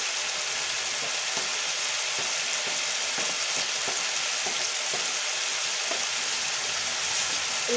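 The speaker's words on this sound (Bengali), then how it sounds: "নেড়ে চেড়ে নিচ্ছি।" Guava pickle with dried chili powder fries in a pan over medium heat, a steady soft sizzle with faint scraping strokes as it is stirred.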